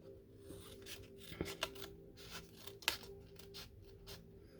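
Scissors cut paper for handmade mini envelopes, a series of light close snips and crisp rustling with a couple of sharper clicks.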